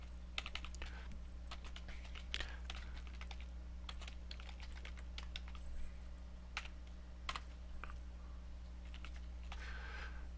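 Rapid, irregular clicking of keys on a computer keyboard while C++ code is typed, fairly close and moderately quiet over a steady low electrical hum.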